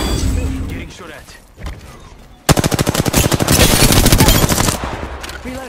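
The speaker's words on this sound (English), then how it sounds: "Getting shot at." Video game gunfire: a sudden, loud burst of rapid automatic shots with a fast even rhythm lasting a few seconds, preceded by quieter game sounds and voices.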